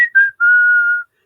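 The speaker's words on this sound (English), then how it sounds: "I can't even whistle" A clear, close whistle: two short rising notes followed by a single long steady tone, loud and alone with no talk.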